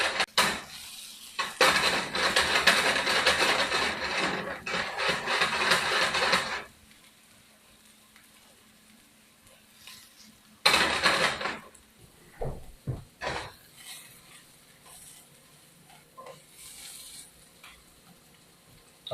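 Vegetables flipped in a hot pan, with loud clattering sizzle in two bursts separated by a quiet stretch, then scattered clinks of a utensil against the pan.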